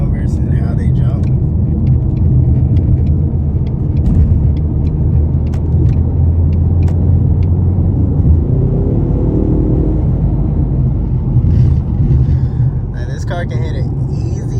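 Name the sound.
2020 Ford Mustang EcoBoost engine while driving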